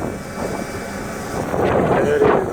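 Strong wind of about 30 knots at sea in bad weather, with a ship at anchor off Jebel Ali near Dubai, roars steadily into the microphone as a dense, blustery rush that grows slightly louder toward the end.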